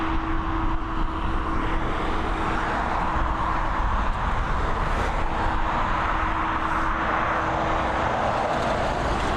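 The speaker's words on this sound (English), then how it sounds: "Let's have a good close-up look at this Emirates as she taxis on by." An Emirates Boeing 777 airliner taxiing at an airport gives a steady, loud broadband engine roar with a constant whine, unbroken and without voices.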